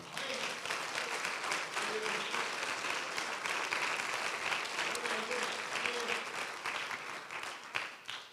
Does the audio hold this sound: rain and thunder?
no